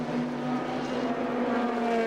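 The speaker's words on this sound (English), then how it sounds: "Back in the race goes Ferrari number 3, Christian Van now behind the wheel." Ferrari sports racing car at Monza during a 2001 FIA Sportscar Championship round, engine droning steadily with a rising whine as it runs on the circuit, loud and close.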